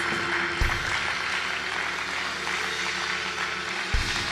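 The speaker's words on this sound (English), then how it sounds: "clap your hands, give God some praise" Church congregation clapping their hands in praise during a sermon, a steady wash of many hands clapping continuously at moderate level with a couple of low thumps.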